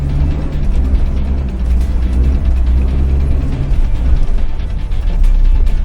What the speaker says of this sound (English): we're going to have to winch this